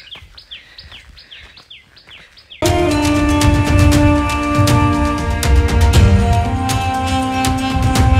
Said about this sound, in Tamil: ஃபுல்லாக பறவைகளோட சத்தம்